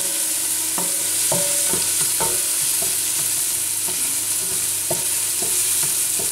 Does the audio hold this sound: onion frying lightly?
yes